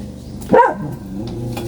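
One sharp dog bark sounds close by, short and loud, over a low steady hum.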